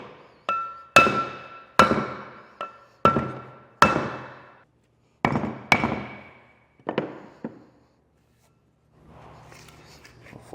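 Sharp wooden taps drive a brake hub bearing race into place through a 2x4 block, about a dozen distinct knocks in an uneven rhythm, close and fairly loud, with no talk.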